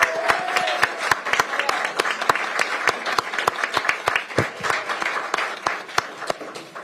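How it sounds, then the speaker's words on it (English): An audience at a Pierce County council meeting breaks into sustained applause, a dense patter of many hands clapping throughout. "Let's give them a round of applause."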